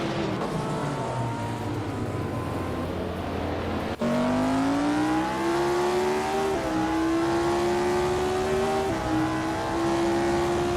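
Race cars in a racing video game rev loudly and continuously, engine tones climbing in pitch with a sharp gear-shift drop midway, then rising again, alone without talk.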